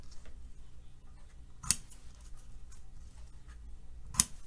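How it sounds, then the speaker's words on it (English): Ribbon scissors snip ribbon while a handmade congratulations card is being finished. Two crisp, close cuts land a few seconds apart against a faint background hiss. "I'm going to bring in my ribbon scissors"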